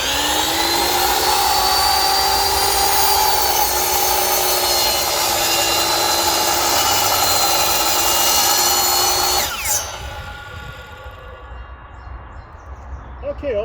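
A power saw cuts through wood for a beginner DIY step stool, a loud, steady whining cut that holds for about nine seconds before the blade winds down into quieter rustling.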